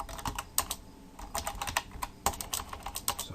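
Quick, uneven clatter of keys on a computer keyboard, close and crisp, with bursts of fast keystrokes broken by brief pauses while code is entered; nobody speaks.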